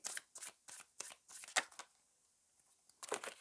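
Tarot cards are shuffled and handled during a daily card draw, giving quick papery riffles and flicks in short bursts, a pause, then another burst, close and fairly quiet with no talking.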